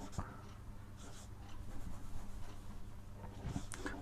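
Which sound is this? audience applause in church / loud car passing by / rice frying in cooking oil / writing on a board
writing on a board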